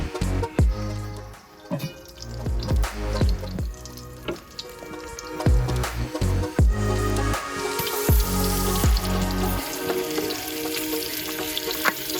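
Meat flash frying in butter in a potjie pot on a Kamado grill at 200 degrees, a loud continuous close sizzle with crackling pops and spatter, plus occasional clinks of a utensil turning the pieces.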